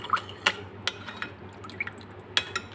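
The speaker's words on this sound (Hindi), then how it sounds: "2 टेबलस्पून हम इसमें दही डाल देंगे और इस तरह से चम्मच से मिक्स कर लेंगे" A spoon stirring two tablespoons of yogurt into milk in a bowl, giving soft liquid sloshes and light, irregular clinks against the side, close and fairly quiet.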